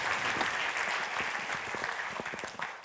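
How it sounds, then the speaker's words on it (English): Audience applause welcoming a speaker at a Python developer conference talk about the Kivy app framework, a steady dense clapping from a crowd that holds throughout and eases slightly toward the end. "So an applause for Mirko and welcome."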